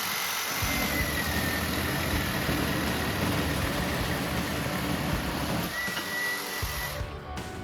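A Milwaukee M18 Fuel cordless reciprocating saw fitted with a bimetal blade runs through its cut with a loud, steady buzzing drone that holds for several seconds before cutting off abruptly near the end.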